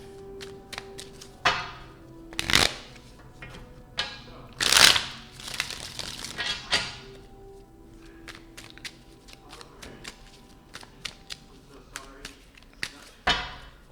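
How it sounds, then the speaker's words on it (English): Tarot cards are shuffled like playing cards in scattered bursts of riffling and snapping, with sharp slaps and taps between them, close to the microphone in a quiet room. "I love these because you can shuffle them more like playing cards."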